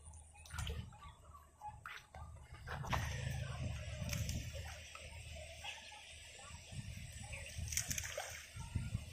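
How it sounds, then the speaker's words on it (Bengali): Floodwater from an overflowing pond splashes and gushes into a canal, an uneven sloshing rush with scattered splatters, fairly faint and outdoors. "কাছে গেলে আপনারা আওয়াজ শুনে বুঝতে পারবেন যে কেমন পানি নামছে ক্যানেলে।"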